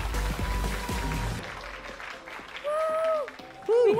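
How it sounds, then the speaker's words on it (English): Audience applause at an eFootball championship world finals event, a dense burst of clapping and crowd noise for about a second and a half that quickly fades, followed by a presenter talking over background hall noise. "Another round of applause."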